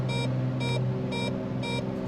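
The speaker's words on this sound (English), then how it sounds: "It beeps because the configuration is odd." A cockpit warning beep in a Piper Arrow in X-Plane 11 sounds four times in steady, evenly spaced pulses over a constant low engine drone, warning of an odd flap configuration.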